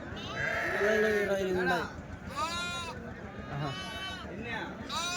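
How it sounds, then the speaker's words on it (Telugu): A flock of sheep with lambs bleats loudly and close at a livestock market in Kadiri, long quavering calls following one another with short pauses between them. "ఇక్కడ గొర్రెలు అయితే ఉన్నాయండి గుంపు"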